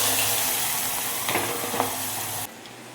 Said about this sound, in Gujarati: હિંગ નાખીને આ ડુંગળી જે ક્રશ કરેલી છે તે નાખી દઈશું